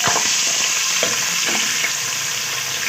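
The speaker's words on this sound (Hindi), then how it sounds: "प्याज को फ्राई करेंगे" Onions frying in hot oil, a steady close sizzle with a few soft stirring scrapes over a short stretch.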